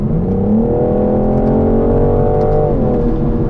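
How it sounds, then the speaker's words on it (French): A 2021 BMW M440i Coupé with an inline six-cylinder 3-litre biturbo engine, a smooth, muted, steady drone that rises slightly in pitch and then eases off, heard close and loud. "Quand même la signature BMW du 6 en ligne, le 6 cylindres en ligne 3 litres biturbo."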